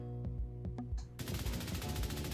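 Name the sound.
gunfire recoil test in video game The Division 2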